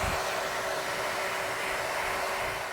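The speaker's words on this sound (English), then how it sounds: "I'm going to put the hairdryer on this for a few minutes and make it a little more tacky" Hair dryer blowing on fake blood makeup to make it tacky, a steady, close whooshing roar that runs unbroken without any talk.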